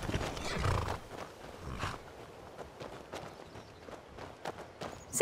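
Horses in the video game Skyrim snort and whinny amid scattered hoof clops and faint movement, fairly quiet and close.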